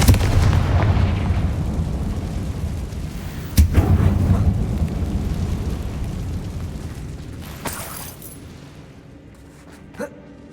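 A Confringo spell explosion in a Hogwarts video game: a deep rumbling blast with a sharp burst near the middle, the rumble slowly fading, followed by a couple of faint later impacts.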